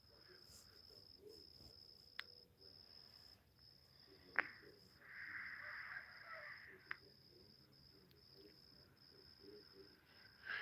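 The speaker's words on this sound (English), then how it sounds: "it got quiet. Other than the crickets" Crickets chirp at night around a farm with alpacas and peacocks, a steady high insect trill running through the whole stretch, with a few sharp clicks and a brief louder rustling burst in the middle.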